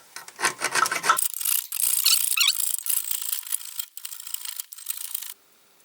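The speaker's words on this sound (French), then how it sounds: "Donc là j'ai commencé un peu à limer ici" Hand file rasping across a metal crankcase of a 1955 Panhard Dyna Z1 engine, close and loud in quick back-and-forth strokes for several seconds, then stopping abruptly into quiet.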